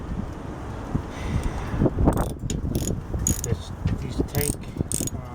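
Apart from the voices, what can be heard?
tightening snowblower tank head bolts with a ratchet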